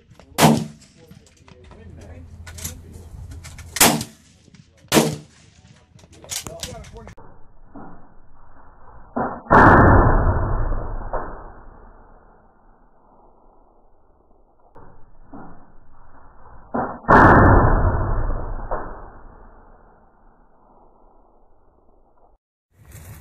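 Rifle shots from a .223 and a .308 fired at a hard drive ring out outdoors as sharp, loud cracks, two heavy blasts trailing long echoes, interspersed with people talking.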